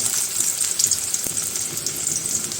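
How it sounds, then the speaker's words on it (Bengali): Chopped onions fry in a pan for a lentil dish, giving a steady close hiss of sizzling oil with faint crackles throughout and no talking. "পেঁয়াজটা একটু ভেজে নেব"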